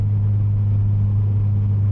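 Low, steady rumble from a Porsche 997 engine at a constant idle, droning evenly and close by with no voices.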